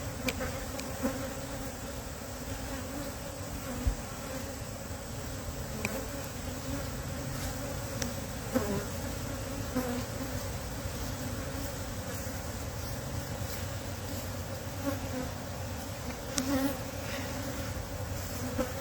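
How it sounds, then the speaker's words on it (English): Dense, continuous buzzing of many honey bees close by around a hive, a steady droning hum with occasional individual bees passing nearer. "There's lots of bees in here, so I think she'll be okay."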